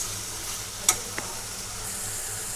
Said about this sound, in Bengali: দেখতে পাচ্ছেন আমাদের পটলটা ভাজা হয়ে গেছে।